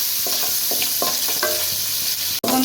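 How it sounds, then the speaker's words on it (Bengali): Shrimp frying in a pan of hot oil for mixed fried rice, a constant loud sizzle with intermittent clinks and scrapes of stirring and a sharp knock near the end. "চিংড়ি মাছটা ওই একই মতন ভেজে নেব"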